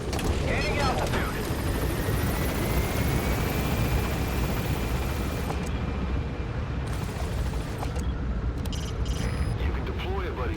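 A helicopter in Metal Gear Solid V: The Phantom Pain gains altitude with a continuous rotor thrum and engine whine, loud and steady, while a voice talks over it and game sounds briefly cut in near the end.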